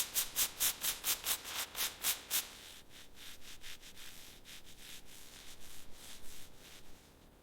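Buffing compound being rubbed briskly into the paint of a Ferrari SF90 XX hypercar, heard as a quick run of sharp rhythmic rubbing strokes that then turns into softer, steadier swishing, close and without speech.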